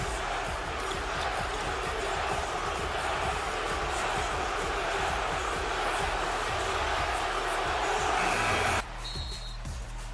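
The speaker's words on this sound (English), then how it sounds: "listen to the reaction from the Dallas crowd" Loud, sustained roar of a Dallas basketball arena crowd cheering for a returning star, a dense wall of noise with bouncing and shouts that runs nearly ten seconds before cutting to a quieter room.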